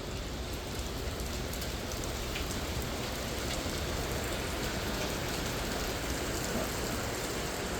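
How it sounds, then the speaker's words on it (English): Steady rain falls at a mountain resort, a dense, even hiss of drops on surfaces holding at one level throughout, with no voices. "We'll sit here and keep watching the rain."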